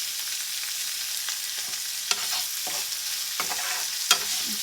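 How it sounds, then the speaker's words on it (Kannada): Chopped onion frying in a pan for a spicy small capsicum curry, a steady close sizzle with a few sharp scrapes of a spatula stirring through it, no voices. "ಒಂಚೂರು ಆನಿಯನ್ ಫ್ರೈ ಆಗಲಿ"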